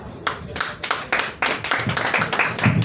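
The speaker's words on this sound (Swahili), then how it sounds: "Tumpigie makofi tena" A small group claps hands at an awards unveiling event in Kenya, the applause building from scattered claps into a steady, lively round, fairly close.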